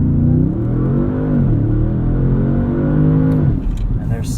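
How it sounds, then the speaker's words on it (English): A 2016 Audi S7 engine revs for a launch control start in sport mode with traction control off, a loud sustained drone that climbs and holds before easing, with a person talking over it. "rev it up"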